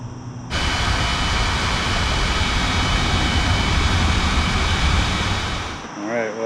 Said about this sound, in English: So I gotta be real quiet about blowing up my sleeping pad.